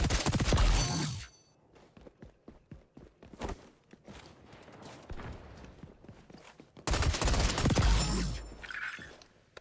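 Shotgun blasts in the shooter game XDefiant, loud broadband bursts at the start and again near the end, separated by quieter clattering and footsteps.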